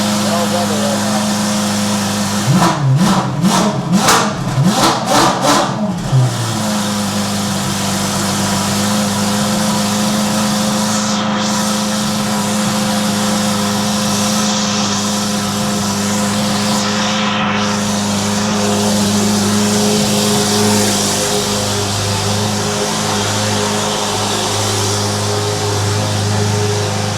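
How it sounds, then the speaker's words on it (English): A loud Ferrari F8 sports car engine drones steadily close by, heard from inside the car, with a brief rapid burst of revving or popping near the start, the roar continuing unbroken. "When the engine's on in here, you're gonna hear yourself stop."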